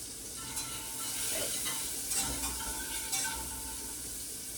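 Butter sizzling in a pan, a steady close crackle with light stirring sounds over it, no voices.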